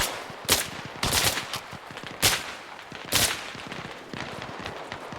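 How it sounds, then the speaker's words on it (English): Machine gun fire during a milsim game, several sharp bursts of rapid shots spaced about a second apart over a steady rattle of background gunfire, loud and fairly close. "That was a machine gun"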